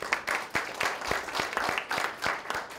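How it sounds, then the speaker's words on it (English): Audience in a corporate diversity and inclusion session claps together, a steady patter of individual hand claps with sharp distinct strikes, fairly close and sustained for a few seconds with no talking. "just an applause for them being brave going first"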